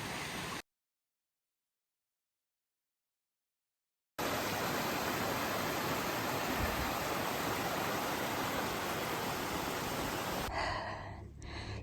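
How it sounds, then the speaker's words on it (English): Continuous broadband rushing of a mountain creek in Colorado, steady and fairly close, after a short silent gap near the start. "this pretty little creek that I've been listening to for a while"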